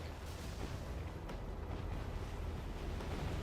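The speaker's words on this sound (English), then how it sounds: "He's actually using the artillery on the battleship, I think." Artillery shells pound a battleship in C&C Generals Zero Hour, a steady, dense rumble of distant blasts and booms that holds at constant loudness with no voices heard.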